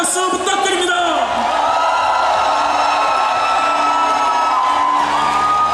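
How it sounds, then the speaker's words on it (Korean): A large crowd at a Democratic Party presidential candidate rally in Chungcheong cheers and shouts loudly and continuously, with whoops and raised voices blending into a dense roar. "우리 당의 소중한 대통령 선거 후보자 모두에게 다시 한번 뜨거운 성원의 박수 부탁드립니다."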